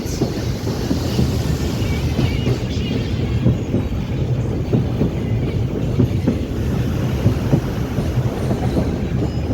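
Loud, continuous rumble and rattle of a train running on rails after leaving Malda, with rhythmic clatter and wind buffeting the microphone.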